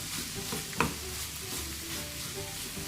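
Beetroot fry with green chilli and coriander powder is stirred in a pan, a soft continuous sizzle under repeated scraping stirs and one sharp clink of a spoon against the metal.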